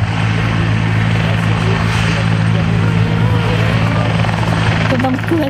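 Police Bell 412 helicopter flying at an air show, a loud, steady rotor and engine roar that fills the whole stretch with little change, with a crowd murmuring faintly underneath.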